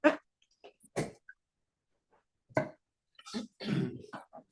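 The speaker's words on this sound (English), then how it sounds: "One of you was coughing in a very interesting kind of way." Several short, close coughs in bursts with quiet gaps between them at a parks and recreation commission meeting, one longer raspy cough near the end.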